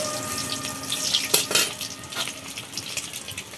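Eggs frying in a pan for a Bengali egg and potato curry, steady close sizzling with a few clinks of utensil against pan, no voices.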